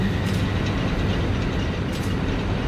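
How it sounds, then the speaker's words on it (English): Factory machines running in the game Satisfactory: a dense, continuous mechanical rumble with a rhythmic clatter, loud and steady with no voices. "And listen to the sounds of those machines."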